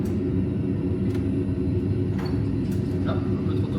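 Airliner in a flight simulator applying reverse thrust on landing, a steady heavy roar and rumble held at constant loudness, with faint clicks over it.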